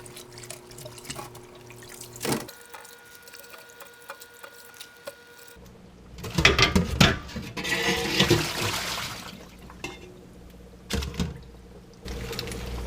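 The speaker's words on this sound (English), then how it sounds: "take it out of here and put it into another container and rinse it off" Kimchi vegetables are rinsed with water in a container, with bursts of running and splashing water that come and go, a louder churning stretch in the middle and quieter pauses between.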